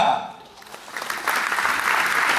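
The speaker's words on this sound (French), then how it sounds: "Je vous demande de faire un tonnerre d'applaudissements, mesdames et messieurs, à Owen." Applause from an audience swells up after a moment and continues as a dense, steady clatter of many hands clapping.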